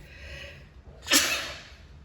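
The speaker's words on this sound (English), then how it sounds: "because I just sneezed" A single sharp sneeze bursts out near the middle, loud and close, after a stretch of quiet room tone.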